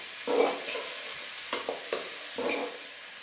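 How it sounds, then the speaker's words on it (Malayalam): Chopped ridge gourd sautéing in a pan, with a few soft stirring scrapes and a gentle sizzle rising and falling over a few seconds, close and fairly quiet. "അതിനുശേഷം നമുക്ക് അരിഞ്ഞു വെച്ചിരിക്കുന്ന പടവലങ്ങ ഇട്ട് കൊടുക്കാം. ഇട്ട് കൊടുത്ത് നന്നായിട്ടൊന്ന് നമുക്ക് വഴറ്റിയെടുക്കണം."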